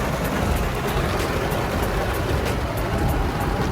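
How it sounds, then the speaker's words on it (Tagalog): Road traffic in San Fernando, heard from inside a moving vehicle during heavy rain: a steady, dense broadband rumble of engines, tires and wet road that holds at an even loudness throughout. "Sobrang traffic dito sa San Fernando."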